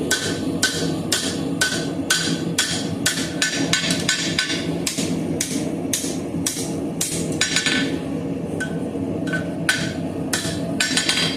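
A blacksmith hand-forges a hook for a dinner bell ringer, with a steady rhythm of sharp, ringing hammer blows on hot iron and anvil repeating about twice a second at close range over a low background rumble.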